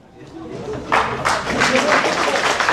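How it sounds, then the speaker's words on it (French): Applause welcoming the Tango family onstage at a French event. It starts softly, then swells into dense, steady clapping from a sizable audience that carries on to the end. "sous vos applaudissements, d'accueillir la famille Tango avec Nathan"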